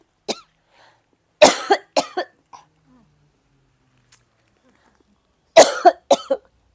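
A woman coughs in short, sharp bursts, one single cough and then clusters of two or three, loud and close, with silent gaps between them.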